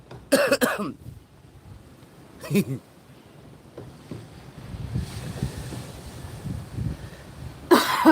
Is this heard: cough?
yes